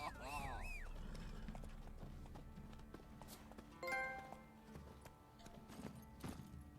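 Roach, the horse in The Witcher 3: Wild Hunt, moves with rhythmic clip-clop hoofbeats and a brief whinny, under game music and a voice talking.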